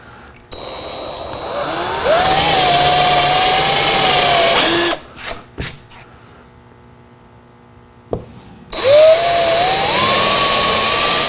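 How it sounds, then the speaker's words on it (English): A handheld power drill bores holes with a 3/16 bit into an overland rear drawer build, whining loudly in two long bursts that rise in pitch, separated by short clunks and a quiet gap. "Now we have to drill those holes with a 3/16 drill bit."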